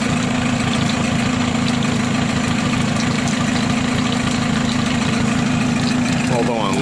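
An engine idles at its lowest setting with the choke pushed fully in, giving a steady, loud, close low hum and throb with even vibration, and a voice speaks over it near the end.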